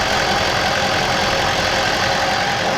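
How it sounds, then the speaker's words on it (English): Diesel truck idling while running on waste vegetable oil from fry grease, a loud, steady, close engine rumble with a rough knocking texture and no voices. "The truck's been idling for a while now"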